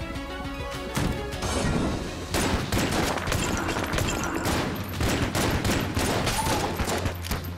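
Rapid bursts of pistol fire from a poison-shot gun in the video game Enter the Gungeon, loud and continuous, layered with impacts and game music.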